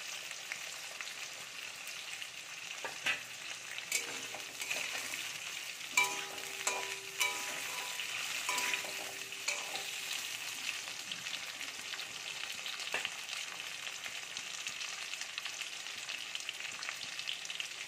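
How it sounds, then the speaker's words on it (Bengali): Potatoes frying in a pan with steady sizzling, punctuated by occasional scrapes and knocks of stirring throughout. "আলুগুলো একটু ভাজা ভাজা করে নেব।"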